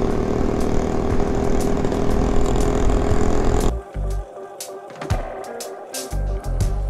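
An IZh motorcycle engine idles with a steady low rumble for several seconds, then drops away, leaving scattered knocks and brief mechanical sounds nearby.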